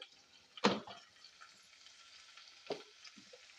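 Carrots, sweet corn and green chilies frying quietly in a pan for carrot rice, with a low sizzle broken by two short bursts of stirring.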